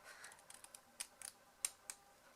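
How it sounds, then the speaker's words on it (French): Good-quality scissors snip through paper, a series of faint, sharp clicks and cuts at an irregular pace, close and quiet. "avec des ciseaux de bonne qualité, on va vraiment pouvoir découper jusqu'au coin sans aucun problème"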